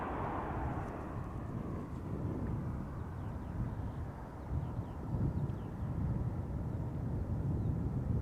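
A Ryanair airliner passes at a distance at Amsterdam Schiphol Airport, a low, steady broadband roar with wind buffeting the microphone, moderately loud and fairly even throughout.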